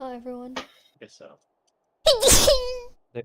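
A single loud, sharp sneeze bursts out abruptly mid-clip, with a wailing tail, between short stretches of casual conversation.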